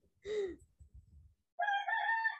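A rooster crows with a rising, drawn-out call, then a second longer crow follows after a brief pause, clear and fairly close.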